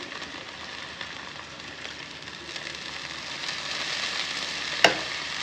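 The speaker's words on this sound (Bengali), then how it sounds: "দিয়ে দিচ্ছি সামান্য একটু জল।" Spice masala cooks in oil after a splash of water is added, making a steady, close sizzle that slowly grows louder, with one sharp clink of a utensil near the end.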